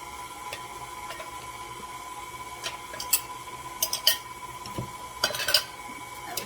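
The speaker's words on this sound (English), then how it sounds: "I'm just going to slowly add those wet ingredients into the dry" Wet ingredients for rhubarb muffin batter are stirred into the dry in a bowl, with faint, soft mixing under light scattered clinks of utensil against dish, some sharper near the end, and no talking.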